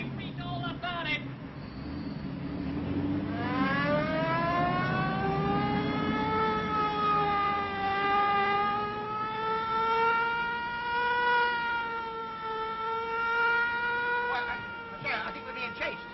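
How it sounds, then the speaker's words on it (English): A car siren in an old film wails in a long, rising and sustained tone over a running engine, loud and continuous for most of the stretch, with people talking around it. "Get your foot off that siren."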